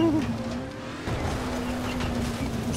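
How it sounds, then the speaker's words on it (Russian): A car engine from the video game Dying Light: The Following, a struggling vehicle in co-op play, drones steadily with a low tonal hum and rising pitch throughout, mixed with rough road and tire noise. "у меня тачка вообще не едет"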